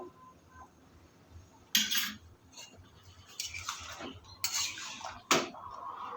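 A spoon scrapes and knocks against a pan while cumin, black pepper and coriander are stirred in for a pumpkin, Malabar spinach, potato and prawn curry, giving a few sharp metallic clinks and scrapes over a quiet kitchen background.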